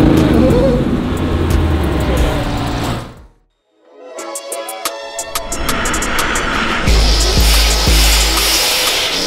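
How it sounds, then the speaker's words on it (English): A 1300-horsepower Jeep Trackhawk engine roars under heavy launch acceleration, drops out briefly, then surges back loud and revving with road and wind noise. "I'm about to launch this shit out of the car."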